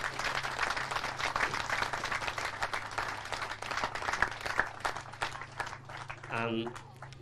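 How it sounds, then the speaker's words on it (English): Audience at a GAA club gathering celebrating the 1976 and 1996 Leinster title-winning teams gives a sustained round of applause, dense clapping throughout with a voice speaking briefly near the end. "they deserve a massive, massive round of applause"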